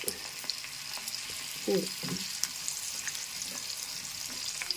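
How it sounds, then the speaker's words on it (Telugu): Broad beans frying in a pan for pickle, a steady soft sizzle with faint crackles and a few clinks of stirring, close by and moderately quiet. "ఇలా చక్కగా వేపేసుకోవాలి"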